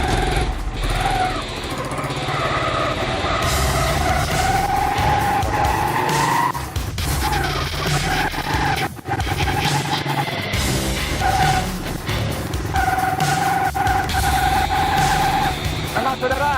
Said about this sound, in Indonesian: saya menggunakan motor ini menggunakan motor yang menggunakan bahan bakar air